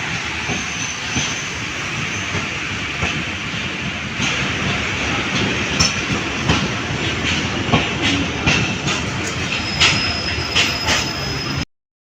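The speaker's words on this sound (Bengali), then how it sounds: "তো প্ল্যাটফর্ম থেকে ট্রেন মাত্রই চলে গেছে" Train pulling away from a railway station platform, a continuous broad rumble and rolling roar at moderate distance with scattered clanks and squeals, steady for about twelve seconds.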